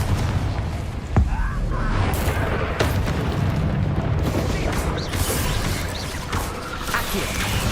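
Confringo blasting-spell explosions from the video game Hogwarts Legacy boom through dense game noise, with sharp bursts and rumbling impacts over a continuous loud background.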